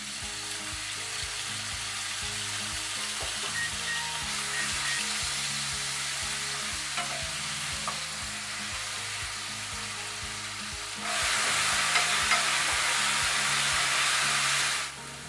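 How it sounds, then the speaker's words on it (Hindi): Onions frying in hot refined oil for sarson ka saag, a steady close sizzle with occasional stirring scrapes, growing louder and brighter for the final few seconds with no talking. "रिफाइंड ऑयल गर्म होने के बाद इसमें प्याज डाल दें।"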